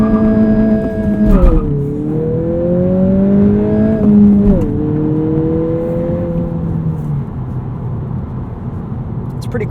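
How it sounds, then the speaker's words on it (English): A 2020 Honda Civic Si sedan pulls hard from a standstill, its engine climbing in pitch through the revs, then dropping sharply at each quick upshift before rising again, heard loud from inside the cabin. "let's do a 0 to 60"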